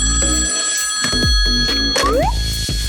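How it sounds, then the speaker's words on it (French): A telephone bell rings loudly in short repeated bursts, mixed with cartoonish sliding tones and other effects, with no talking over it. "Allô? Allô, salut Nate."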